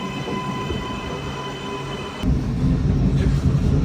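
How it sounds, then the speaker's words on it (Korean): A three-car train in Auckland, New Zealand rumbles steadily, growing louder and heavier partway through as it rolls closer, with faint high metallic tones above the low roar. "한 칸, 두 칸, 세 칸짜리 열차야."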